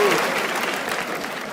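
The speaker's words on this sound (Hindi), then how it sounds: "एक बार जोरदार ताली बजा दो सबके लिए भाई" Loud, dense applause from a comedy show audience fills the room steadily, with crowd noise mixed in and a voice briefly audible at the start.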